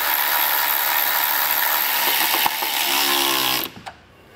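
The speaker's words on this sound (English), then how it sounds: "I'll be using a quarter inch socket to get that drilled in." A power driver turns a self-tapping screw with a quarter inch socket into vehicle metal during a trailer wiring harness install, making a loud steady whirring drone that stops abruptly near the end, followed by a couple of faint clicks.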